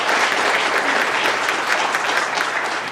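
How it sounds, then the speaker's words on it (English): Sustained, dense audience applause at a legal storytelling event, many hands clapping steadily and loudly for the full few seconds, with no voices on top. "Please join me in one more round of applause for Lisa and Joe."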